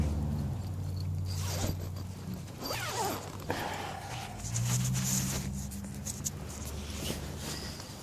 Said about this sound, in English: you could always zip this thing to the point